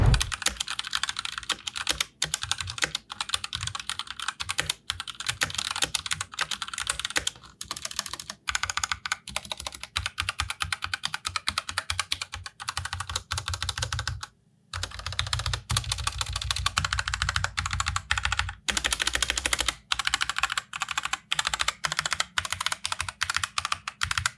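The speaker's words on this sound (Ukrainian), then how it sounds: "тобто чорні. І мені особисто сподобався тайпінг на них. Він приємний, м'який, підштовхуючий та відносно тихий, що мені точно сподобалося. Ось як це звучить" Steady typing on a 1stPlayer MK8 Titan mechanical keyboard fitted with Gateron Black switches, producing soft, fairly quiet, dense keystrokes in a continuous close rhythm with a couple of short pauses, with no talking.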